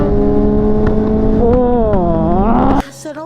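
A motorcycle engine revs hard with a rising, harmonic whine and crackling exhaust pops, loud and close, then cuts off abruptly near the end, leaving quieter engine noise.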